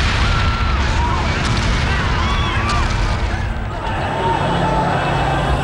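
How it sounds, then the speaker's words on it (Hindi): A bomb-blast sound effect for a scooter bomb in a crowded Mumbai market during the 1993 blasts: a loud, continuous roaring rumble that never settles, with voices faintly mixed under it. "कत्था बाजार के बीचों बीच एक और धमाका होता है।"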